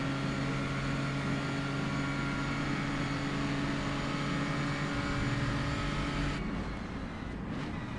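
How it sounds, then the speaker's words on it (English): A race car braking and shifting down through the gears into the final corner of a two-hour race at Longford. A steady engine drone steps lower in pitch, then falls away into quieter, rougher noise. "Hits the brakes. Down through the gears."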